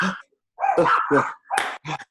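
Small dogs bark and yip indoors at passers-by on a city street, a few sharp close bursts in quick succession with short pauses between.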